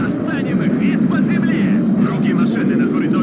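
Helicopters flying over a battlefield in the Warno wargame, a steady droning engine and rotor roar that fills the whole stretch, with voices talking over it.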